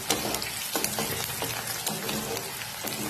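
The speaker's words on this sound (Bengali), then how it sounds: "এখানে আমি পেঁয়াজটা একটু ভেজে নিচ্ছি।" Onion sizzling and frying in a pan, with a steady crackle of hot oil and occasional stirring scrapes, close and continuous with no voices.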